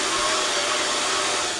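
A household vacuum cleaner runs with a steady, loud broadband whoosh and faint tonal hum, continuous and unchanging throughout with no speech over it.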